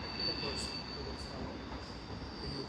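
A five-coach South Western Railway train leaving Basingstoke station and turning off towards Reading gives a steady, moderately loud rail rumble with a high squeal from the wheels, heard at mid distance.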